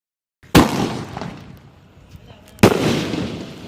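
Firecrackers bursting outdoors at a child's birthday celebration: two sharp loud blasts about two seconds apart, each with a crackling, fading tail, while people talk nearby.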